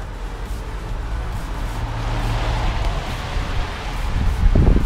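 Wind buffets the microphone in a steady low rumble that swells louder toward the end, with faint rustling and no voices.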